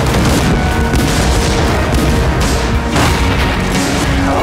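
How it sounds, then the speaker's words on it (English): Heavy cannon fire in Assassin's Creed IV: Black Flag, a dense, loud barrage of booming blasts and crashing impacts rolling continuously without a break, set within a naval battle game scene. "Man the cannons!"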